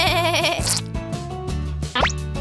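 Sheep bleating loudly and close in a playful pretend-vet scene, with several wavering bleats in quick succession over a musical backing, ending in a rising squeal.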